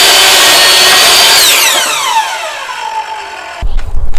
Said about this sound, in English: I have my miter saw set up now to make this cut at 35 inch